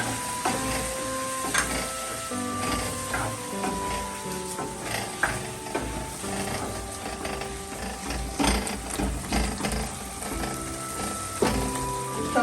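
Tempering (tadka) spices crackle and sizzle in hot oil for a vegetable sabzi, a steady spitting fry running throughout with music playing underneath.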